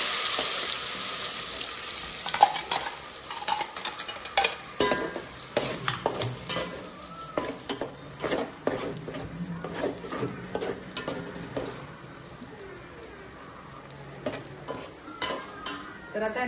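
Biryani masala with bay leaf sizzles in plenty of hot oil while a spoon stirs and scrapes it around the pan, producing loud irregular clatters over a constant frying hiss that settles down near the end.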